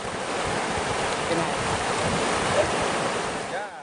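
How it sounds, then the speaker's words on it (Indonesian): An overflowing river in flood rushes in a steady, loud roar of churning water, continuous and close, with wind noise on the microphone. "Akses menuju ketiga kecamatan pun dialiri arus air yang deras."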